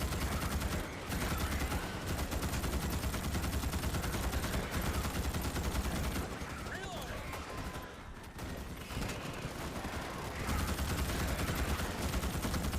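Dense, sustained automatic gunfire rattles almost nonstop as guns mow down bugs in Starship Troopers Extermination, Bug Extermination Simulator, with a brief lull midway before the shooting resumes loud and close.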